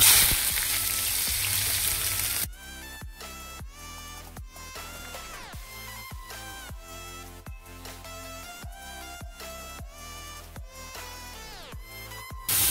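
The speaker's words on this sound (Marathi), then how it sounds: "आता हे मी फोडणीमध्ये टाकणार आहे। आधी मी कांदा टाकते।" Chopped onion hits hot tempering oil for a spicy chicken curry, giving a brief loud sizzle for about two seconds before background music takes over and the frying fades beneath it.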